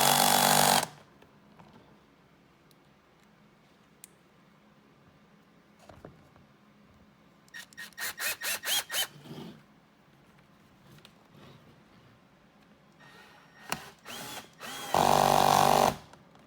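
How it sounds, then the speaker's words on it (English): A power tool drives screws into a snowmobile's lower air intake plenum on an Arctic Cat, giving a short whirring burst, then a rapid series of pulsed ratcheting bursts, then a final loud whir, with quiet handling noises between. "tighten up the 3 screws to hold the lower air intake plenum on"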